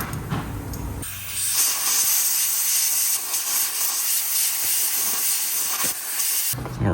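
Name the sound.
compressed air blowing out a lug bolt hole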